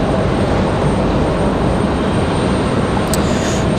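Loud, continuous jet roar from a Republic Airways jet landing at Raleigh Durham airport, close and unbroken, with a faint tonal whine near the end.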